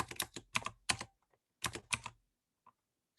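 Typing on a computer keyboard comes in quick bursts of close clicking keystrokes separated by short pauses, with no talk.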